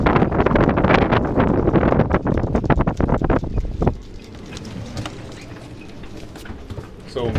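Strong wind buffets a sailboat at sea off the Portuguese coast, a loud continuous roar with heavy gusting for the first four seconds that eases to a steadier, quieter rush afterward.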